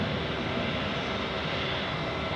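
An Air Canada airliner from Toronto at Zurich Airport produces a steady, loud engine roar with a broad hiss, unchanging over a couple of seconds.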